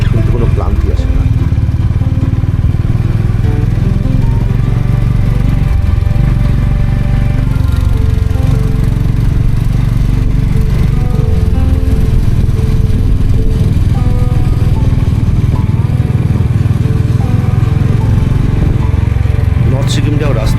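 A motorcycle engine drones loud and steady while riding a narrow mountain road on the way to North Sikkim, with wind rumble throughout and a voice talking over it.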